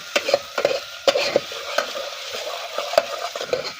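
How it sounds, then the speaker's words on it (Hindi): Onions frying and being stirred in a pan for Maggi noodles at a night campsite high in Uttarakhand, with repeated scraping strokes over a steady close sizzle. "प्याज भुन रहा है"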